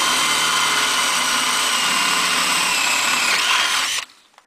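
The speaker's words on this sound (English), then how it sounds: "Now we drill a little hole" A power drill whines loudly and continuously for about four seconds, enlarging a hole during a Ford Transit Connect safety partition installation, its pitch shifting slightly as it bores, then stops abruptly into near silence.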